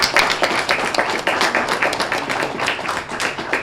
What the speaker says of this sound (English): give you all a great round of applause